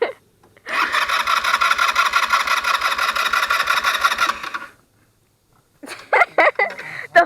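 A Taotao 150cc ATV engine runs with a steady, rapid pulsing drone for about four seconds and then cuts out. A few short, loud bursts of sound follow after a pause.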